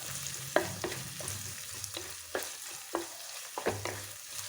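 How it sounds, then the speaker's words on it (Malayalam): Curry leaves fry in hot oil for a fish curry while being stirred in the pan, with a steady soft sizzle broken by intermittent scraping knocks of the spoon. "കുറച്ച് കറിവേപ്പില നന്നായിട്ട് മിക്സ് ചെയ്തെടുത്ത് മൂപ്പിച്ചെടുക്കാം"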